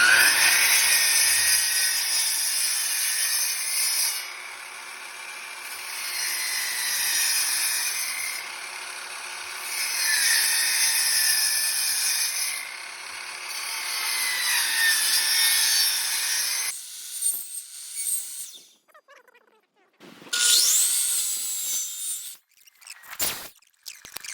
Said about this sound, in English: And to go the rest of the way, I'm just going to use the table saw.